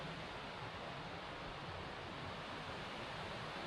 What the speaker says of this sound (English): You can hear that creek the whole way up.